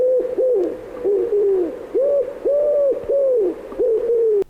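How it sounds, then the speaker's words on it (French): A common pigeon, or rock dove, coos close by in a run of about seven or eight soft, rounded, rolling coos with short pauses between them, with no other sound around it. "Et le pigeon biset, lui, que l'on voit plutôt en ville,"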